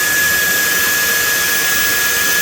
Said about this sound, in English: Now we're down to a belt sander.